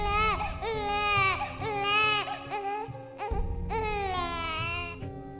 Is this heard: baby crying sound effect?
yes